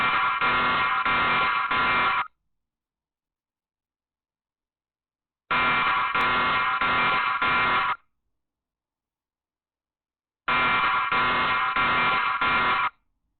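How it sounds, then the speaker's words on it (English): A home security alarm going off in three loud, harsh buzzing bursts of about two to three seconds each, separated by gaps of silence, with no voices. "The video starts with the alarm suddenly going off"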